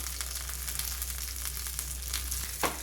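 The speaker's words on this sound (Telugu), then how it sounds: "అటు ఇటు మార్చుకుంటూ లో ఫ్లేమ్లో వేగనివ్వాలండి ఒక ఐదు నిమిషాల పాటు" Salted fish frying in a pan over a low flame, a steady soft sizzle and crackle with a low stove hum beneath and one brief louder stir near the end.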